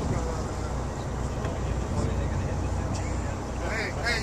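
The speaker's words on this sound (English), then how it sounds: "you should kill the engine" Sportfishing boat engine running at sea, a steady close low drone mixed with wind and water noise, with people talking over it.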